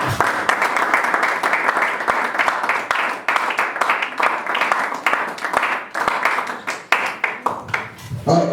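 A church congregation breaks into sustained applause during worship: dense, steady clapping from many people, loud and close, running throughout with a few sharper claps standing out.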